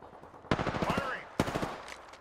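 Rapid automatic gunfire in the video game Apex Legends: a sharp burst of quick shots, a brief pause, then a second shorter burst, loud and close with a ringing metallic tail.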